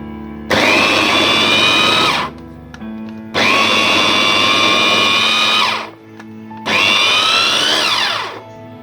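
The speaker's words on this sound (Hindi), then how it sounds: "तो हम इसको चॉपर में कर रहे हैं।" An electric food chopper coarsely grinds raw cauliflower for kofta in three loud whirring bursts, each about two seconds long, the motor spinning up sharply and winding down between runs, with no talking.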